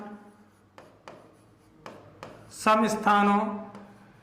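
Chalk or marker writing on a board during a maths lesson on divisibility rules, a few spaced taps and strokes close by, followed by someone speaking.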